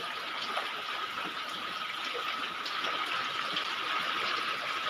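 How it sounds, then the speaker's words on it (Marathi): Heavy rain with water pouring into a village house and collecting in a vessel, a faint, steady rushing gush of water throughout with no voices. "घरात बी बघा पाणी किती लय पडते पाऊस"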